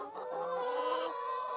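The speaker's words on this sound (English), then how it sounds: "we might go give it to the chickens and see how they like their treat" Backyard chickens cluck and murmur close by while waiting for a treat of cooled brewing grain, a soft continuous chorus of calls with no talk.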